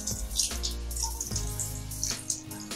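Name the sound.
tap water running while washing quail with salt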